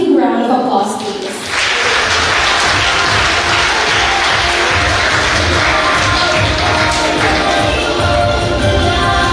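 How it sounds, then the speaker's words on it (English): A large audience at a 2024 IT-BPM scholarship graduation ceremony breaks into loud, sustained applause that swells after a brief lull and continues steadily, a dense wash of many hands clapping together. "A big round of applause, please."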